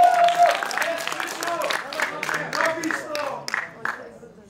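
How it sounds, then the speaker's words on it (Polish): Audience applause for a contestant in a competition final, a crisp, fairly close patter of clapping running throughout, with voices heard over it. "Brawa, Krzysztof Adamczyk"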